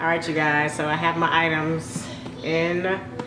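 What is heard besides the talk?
None of the usual background noises is heard.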